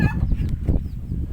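A few short clucks from chickens close by, brief and choppy against a low background murmur.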